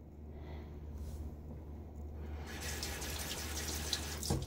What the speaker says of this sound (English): some people, I believe, don't even rinse their blade like I just did